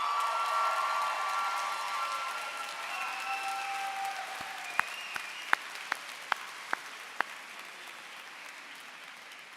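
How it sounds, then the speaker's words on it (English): The crowd at New York Law School's 131st commencement applauds graduates' loved ones in a broad wash of clapping that slowly fades, leaving a few sharp, isolated claps near the end. "Graduates, please give your loved ones a well-deserved round of applause"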